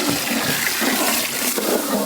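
Water pours steadily into a pot for goat mutton biryani with mint, ground ginger-garlic and tomato, a continuous close rushing flow lasting about two seconds with no talk.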